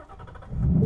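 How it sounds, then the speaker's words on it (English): A 2019 Ford Mustang GT in track exhaust mode fires up, its engine starting with a rising low rumble that swells loud and close. "start the car."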